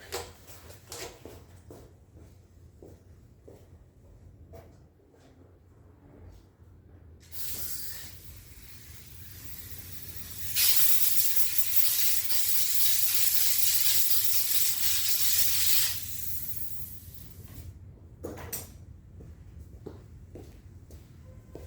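Compressed air blasts grass and debris out of the air filter box on a Yard Machine push mower, a loud hissing burst lasting several seconds between shorter puffs and quiet handling clicks.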